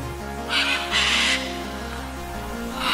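Macaws calling loudly in the open, two harsh raucous squawks close together early on and another starting at the end, over a low steady background hum.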